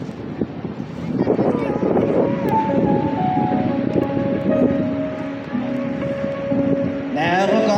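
Vintage aircraft with supercharged Pratt & Whitney R1340 Wasp radial engines flying at an air show, a steady droning engine roar with wind buffeting throughout, while a voice talks over it.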